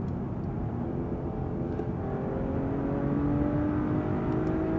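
A 2024 Mercedes-Benz E450, a non-AMG model, accelerates on the road, its engine note rising steadily beneath a continuous whir of road noise, heard from inside the car.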